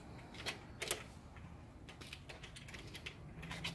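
Quick, light mechanical clicks and ticks come from a screw being hand-tightened while a screen door is installed. They are faint, close and irregular, with no talk.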